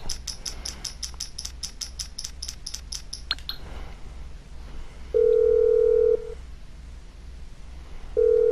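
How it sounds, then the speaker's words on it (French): Telephone dial tone from a phone call placed in the video game GTA V Online, a steady tone sounding in two bursts after a run of rapid chirping beeps, loud and with no talking. "Vous le téléphone, vous appelez Lester."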